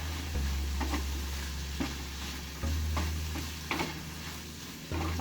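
Tofu being stir-fried in a pan gives a low steady sizzle with a hum underneath, punctuated by several soft scrapes and clatters of a spatula.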